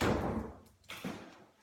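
A trained trick dog strikes a door, giving a loud, close thud that fades, then a second lighter bump and a rattle.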